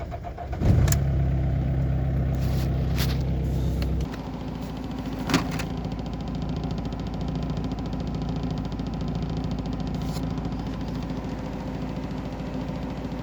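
A BMW E46 320d diesel engine cranked with the starter: a loud churning whir for about three seconds, then a lower, steadier mechanical drone with a few faint clicks.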